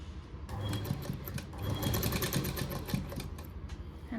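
A sewing machine stitches the side slits of a collar kurta, running in a fast, even mechanical whir with rapid needle clatter, briefly easing and resuming, close and alone.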